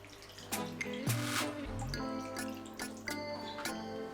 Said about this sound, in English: I'm adding some water to help steam it well.